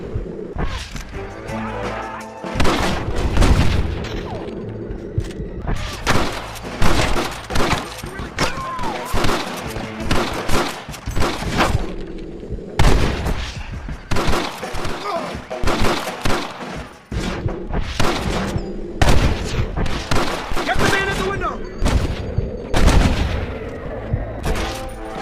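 Dense, loud gunfire fills a bank shootout in the video game Red Dead Redemption, with rapid overlapping shots and bursts, short lulls between volleys, and voices shouting over the fighting.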